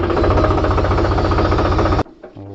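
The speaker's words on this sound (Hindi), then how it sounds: "थोड़ा सा ट्रैक्टर को हम स्टार्ट कर लेते हैं।" A tractor engine runs loud and close with a steady diesel clatter for about two seconds, then cuts out abruptly into quiet with a brief knock and low hum.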